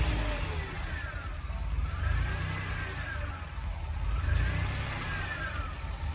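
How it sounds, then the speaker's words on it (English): DeLorean engine with an idle fault, throttle snapped so the revs rise and fall in smooth swells over a steady mechanical whir, close by, with no talk. "Now if I snap the throttle, it literally goes back to open loop"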